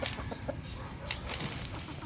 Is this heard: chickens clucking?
yes